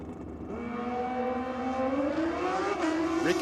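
A modified drag racing motorcycle launches hard down the strip at Sydney Dragway, its engine note climbing steeply in pitch as it pulls away, loud and close, with no talk over it.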